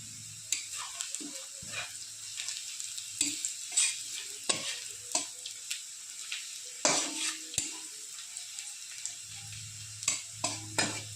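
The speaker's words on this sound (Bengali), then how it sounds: "রসুন আর পেঁয়াজ কুচি আমি ভালো করে ভেজে নিয়েছি, এবার দিয়ে দেবো কালো জিরে সম্বার" Nigella seeds sizzle in hot oil over fried garlic and onion for a jute-leaf dal tempering, heard as a quiet hiss broken by frequent sharp spoon scrapes and clinks against the pan, close and without talk.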